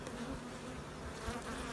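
Honey bees fly around an open hive in a steady, faint, close buzzing drone, with a few individual insects passing near the microphone.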